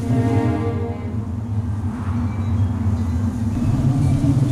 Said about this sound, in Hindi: तूफान आ रहा है, चलो जल्दी करो।